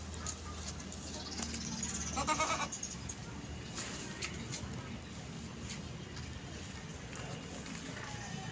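Goats bleating on a small farm where a doe has just given birth to kids, calls rising intermittently over a steady outdoor background with a person talking nearby.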